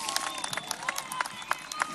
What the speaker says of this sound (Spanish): ahí los aplausos también